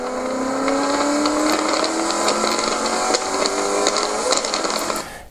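A Ford Mustang on a third-gear exit from a turn at Apex Motor Club, its engine climbing loud and steady in a long rising revving pull with an unneeded RPM spike, then cutting off abruptly at the end.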